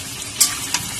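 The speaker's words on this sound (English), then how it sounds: "and I'm frying it together." Sliced onions and potatoes fry together in a pan for a Kolkata-style biryani, giving a steady, close sizzle with a couple of brief louder crackles.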